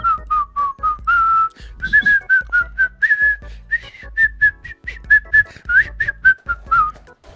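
A person whistles a tune from Snow White alone, a clear, close melody of short chirpy notes and sliding pitches in a bouncy rhythm.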